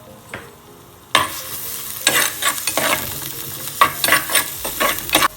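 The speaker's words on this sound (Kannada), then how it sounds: "ಇವಾಗ ನಾನು ಆನಿಯನ್ ಹಾಕ್ತೇನೆ. ಆನಿಯನ್ ಹಾಕಿ ಚೆನ್ನಾಗಿ ಫ್ರೈ ಮಾಡಿ." Chopped onions hit hot oil and burst into a loud close sizzle, followed by repeated spatula scrapes and stirring strokes in the pan as the frying continues.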